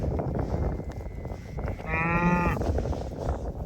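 A single drawn-out cow moo rises over steady outdoor wind noise on winter range pasture, lasting under a second near the middle.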